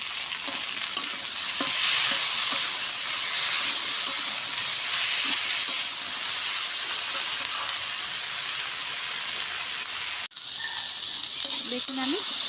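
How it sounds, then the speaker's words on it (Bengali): Figs and onions fry steadily in a hot pan, giving a dense, continuous sizzle with occasional stirring scrapes across the whole stretch, loud and close, with no voices. "এবার এই ডুম্বুরগুলো দিয়ে দেবো, দিয়ে আবারও আমি ভালো করে এগুলো ভাজবো।"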